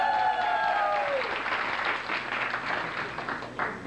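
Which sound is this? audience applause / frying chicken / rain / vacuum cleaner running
audience applause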